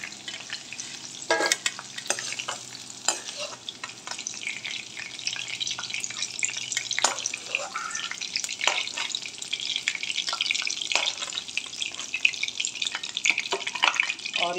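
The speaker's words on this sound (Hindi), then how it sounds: "सहजन फ्राई हो चुका है, अब हम इसको निकाल लेंगे।" Moringa drumstick pieces frying in a pan for an Indian potato-drumstick curry, with a steady bright sizzle throughout, occasional louder crackles and stirring scrapes, close and continuous.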